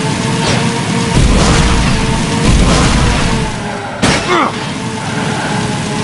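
A vehicle explodes in Jak & Daxter 2, heard as loud booms and mechanical crashes with a sharp impact near the end, set against a steady game soundtrack.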